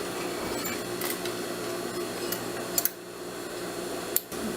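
A sewing machine stitches the hem of clochard trousers with a continuous mechanical whir and low rhythmic hum, briefly pausing, while someone speaks a few words over it.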